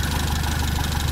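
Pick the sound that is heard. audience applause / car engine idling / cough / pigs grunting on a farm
car engine idling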